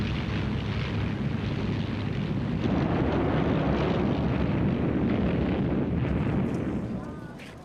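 World War II Luftwaffe aircraft attacking Malta roar in a loud, dense wash of engine drone and blasts that fills the clip before tapering off near the end.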